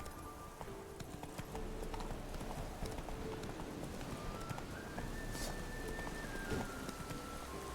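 Roach the horse galloping through rain in The Witcher 3, hooves clip-clopping in a quick steady rhythm over a constant hiss of rainfall, with faint tonal game music beneath.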